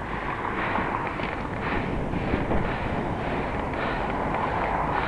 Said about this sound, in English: A little wind behind me.